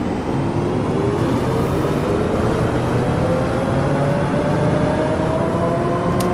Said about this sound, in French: Alors le bruit du bus est un peu fort.